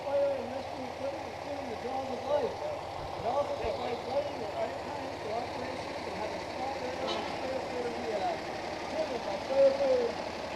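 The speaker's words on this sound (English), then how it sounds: "Heavy-duty rescue truck." A heavy-duty fire rescue truck rolls past in a street parade, its engine idling and rumbling at a steady, moderate level while a public address announcer talks over it.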